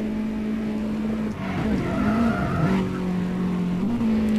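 A car in Need for Speed World accelerates on nitro boost: a loud steady engine whine that dips and surges in pitch, with tire squeal and skidding layered over it.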